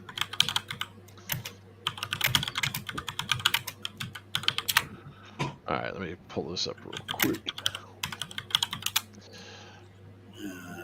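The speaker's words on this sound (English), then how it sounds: "you're so aggressive with your typing" Aggressive typing on a computer keyboard, with rapid clattering bursts of hard key strikes and pauses in between, while someone talks over part of it.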